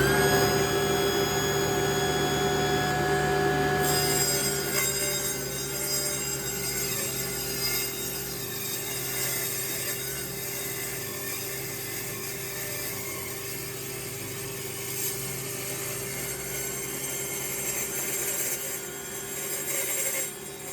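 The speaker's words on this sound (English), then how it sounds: "let me show you, and I'll cut a piece of wood." A mini table saw crosscuts a 7/8-inch-thick piece of black walnut, its steady motor whine and dense cutting noise running loud and continuous with slight dips in level, no talk over it.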